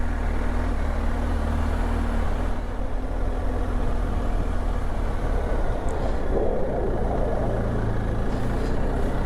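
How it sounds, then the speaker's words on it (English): A broad, low jet roar rumbles continuously from above Honister Pass in the Lake District, swelling slightly as the aircraft passes, with no voices over it. "Just heard a jet go overhead."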